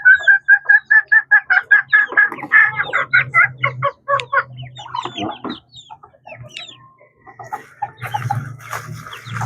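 Backyard chickens cluck in a quick rhythmic run of short, repeated calls, then break into scattered, irregular clucks and squawks close by, with a low background rumble.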